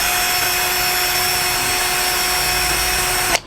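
A DongCheng DCJZ1202i cordless impact drill runs at its second speed setting, a loud, steady high-pitched whine held for several seconds before cutting off abruptly.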